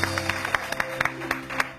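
An audience at an event claps for young girls, a light, uneven patter of hands with distinct sharp claps scattered over a low hum, fairly close.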